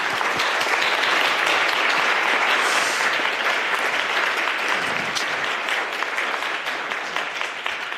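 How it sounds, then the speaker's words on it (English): A lecture audience gives sustained applause for a nuclear science professor, dense crowd clapping at full strength that slowly thins and tapers toward the end. "So a big round of applause for him."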